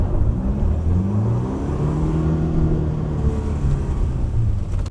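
A Ford Ranger engine drones loudly and steadily up close, its pitch rising and falling slightly in a few revs as the driver struggles with the gears.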